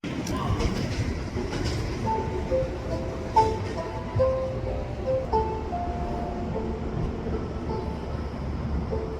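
A CN freight train rolls past a railway crossing, a steady broadband rumble of rail cars running throughout, with horn-like tonal notes sounding over it and faint background talk.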